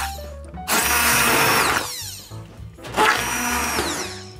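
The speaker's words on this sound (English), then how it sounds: "what I do with all these great veggies is I blend it up with an immersion blender" An immersion blender purées cooked vegetables for a Korean-style soup, whirring loudly in two long bursts with a brief pause between, close and without talk.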